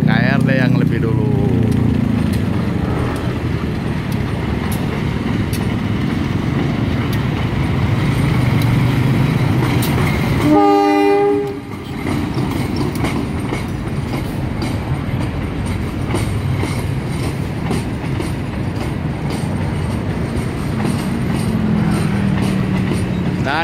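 Two trains, the Argo Parahyangan and a KRD Bandung Raya commuter, rush past near a station in Indonesia, a loud continuous rail roar with a horn blast midway and clickety-clack wheels, while people talk over it.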